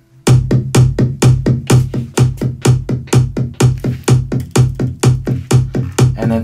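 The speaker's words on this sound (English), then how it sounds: "And then just some reverb that I automated here together with the kick drum sounds like" A steady, rapid run of kick drum hits soaked in automated reverb, each thump trailing a wash of bright decay, looping evenly and loudly for several seconds without any voices.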